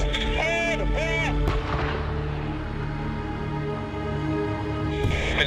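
A tank's main gun fires during a training exercise, a heavy boom around the middle-start over the constant loud drone of the engine and interior machinery, with another sharp report near the end and no clear talking.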